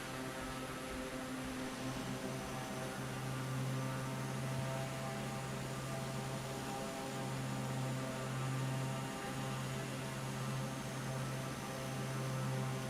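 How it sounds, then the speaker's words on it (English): Steady engine drone of an aircraft in Microsoft Flight Simulator 2024, a continuous low hum with a constant pitch and a faint hiss, holding level from start to finish with no talking. "People are here to hear the plane,"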